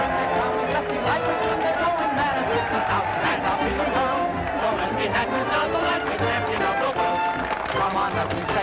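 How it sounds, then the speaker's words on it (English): At a boxing event, a crowd surges toward the ring after a knockout, a dense, loud wash of chatter and shouting voices that continues without a break. "The crowd is rushing for the ring."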